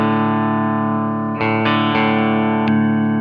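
Electric guitar through amp channel 2 rings out with a clean, shimmering tone, a held chord with a few picked notes and chords layered on top, sustained and close with no talking.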